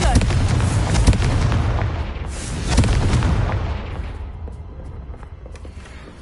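Confringo fire spell blasting in the video game Hogwarts Legacy, a loud booming explosion with rumbling bursts that gradually dies away into a fading tail.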